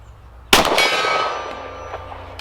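A single sharp metallic clang as a 10mm bullet from a Glock pistol strikes a steel gong target at 50 yards, followed by a long ringing tone that slowly fades.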